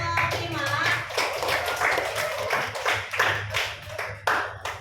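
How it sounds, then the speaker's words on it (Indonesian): A small class group applauds another student group after a presentation, a burst of close, fairly quiet hand clapping of uneven rhythm lasting several seconds. "beri tepuk tangan untuk kelompok 5"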